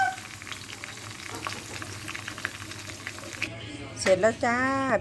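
Pork belly sizzles loudly with garlic in hot oil, a constant close frying hiss that runs throughout, with a voice speaking over it near the end.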